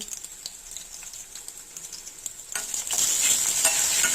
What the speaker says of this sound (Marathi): प्रथम भांड्यात कांदा परतून घेणे लालसर रंगाचा होईपर्यंत